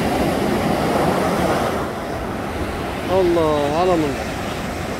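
Sea waves churning and foaming below the rocky coast at Al Hoceima, a steady broadband roar of surf heard from above, with a voice speaking briefly over it near the end.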